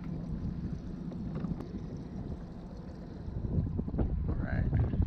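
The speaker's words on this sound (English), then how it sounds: "It's a little windy right now, but it's all right." Wind buffets a small fishing boat trolling for rainbow trout, a steady low rumble of gusts against the microphone that swells louder toward the end, with faint water and boat noise.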